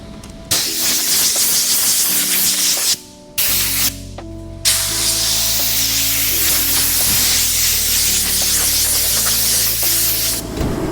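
A paint spray gun, the new 4600 model loaded with base coat color, hisses loudly and steadily across a car bumper in a few long passes, with two short breaks near the start.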